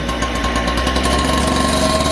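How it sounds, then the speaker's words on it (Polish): A steady, loud motorized rumble with a buzzing mechanical drone as a power saw continuously cuts paving stones to size nearby. "Zobaczcie, tak kolega tnie taką piłą"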